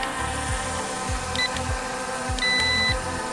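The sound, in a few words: long beep from China drone remote controller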